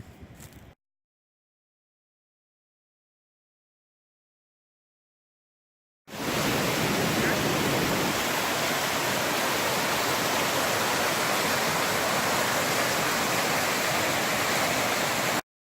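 River water rushes in a steady, dense broadband roar that holds loud and even for about ten seconds after a long silent gap.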